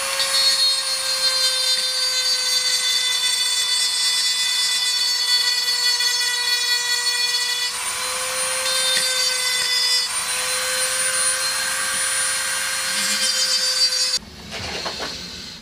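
A jammed Black & Decker hedge trimmer is scraped to free it, producing a sustained, high whining grind with strong steady tones, briefly changing pitch midway and cutting off near the end, with no one talking.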